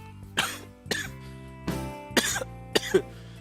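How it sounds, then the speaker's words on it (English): Several separate coughs, about five, spaced unevenly over a few seconds, fairly close and moderately loud, with no talking. "sorry about the coughing"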